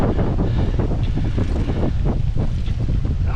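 Strong wind at a carp-fishing spot roaring and buffeting the microphone, loud and constant with gusty surges throughout.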